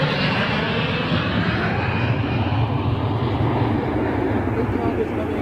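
Etihad Boeing 787 Dreamliner jet airliner coming in to land, a loud continuous engine roar with a low rumble that holds steady throughout, with voices mixed in underneath.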